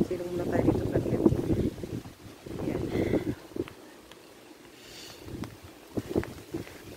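Gusting wind buffets the microphone with low rumbling bursts, while people talk faintly nearby.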